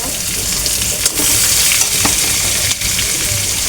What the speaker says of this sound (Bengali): আমি দিয়ে দিব পেঁয়াজ, রসুন, কয়টা কাঁচামরিচ